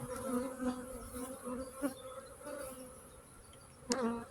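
Honeybees swarm over homemade wax comb at a hive, a steady, soft buzzing hum close by, with a few louder individual passes.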